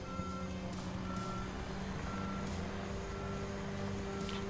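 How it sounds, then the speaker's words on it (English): A dump truck's reversing alarm in the video game Road Work Construction Simulator 2022, repeated steady beeps over a continuous rumbling diesel engine drone, with no voices. "But we will bring our dump truck over there."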